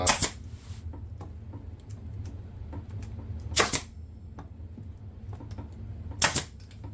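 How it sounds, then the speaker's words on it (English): Staple gun firing half-inch staples into a stool being reupholstered: three sharp, close snaps spaced a few seconds apart over quiet handling noise. "in order to fire a staple, it has to be depressed"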